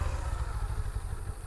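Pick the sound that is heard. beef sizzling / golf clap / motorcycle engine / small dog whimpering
motorcycle engine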